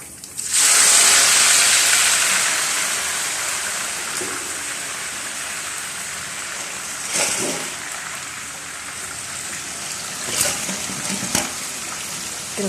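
Onion frying in a pan while a fish curry is cooked: a loud hissing sizzle bursts in as the onion hits the oil, then settles into a steady crackle with a few faint clinks.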